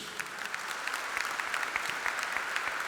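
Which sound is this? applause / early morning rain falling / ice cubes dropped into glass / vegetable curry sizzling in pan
applause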